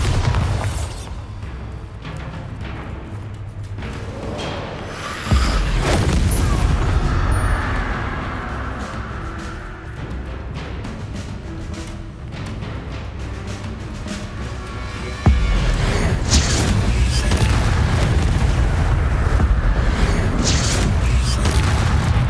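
Bombarda spell blasts in the Hogwarts Legacy video game land as two heavy, booming explosions, each followed by a sustained rumbling roar with debris and mechanical clatter, dense and loud throughout with no talking.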